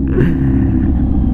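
A Kawasaki Z900 motorcycle rumbles steadily while being ridden on a road in Aurora, its engine drone continuous under a person talking.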